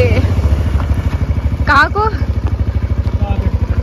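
A newly bought motorcycle idles close by in a hill town street in Pithoragarh, a loud steady pulsing engine thump, while a person speaks briefly over it.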